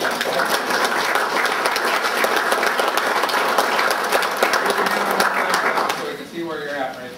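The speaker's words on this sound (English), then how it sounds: "let's give him a round of applause" A seated audience gives a round of applause for a guest at a public talk on the national debt, steady mid-distance clapping that thins out near the end as a voice begins.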